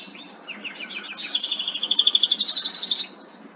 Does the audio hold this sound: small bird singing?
yes